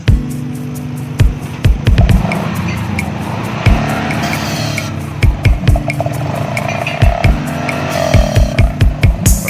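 Yamaha NMAX scooter engine revved repeatedly in a workshop during a service, sharp throttle blips rising and falling in a quick irregular rhythm, loud and close.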